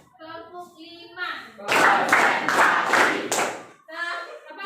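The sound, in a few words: class of students clapping hands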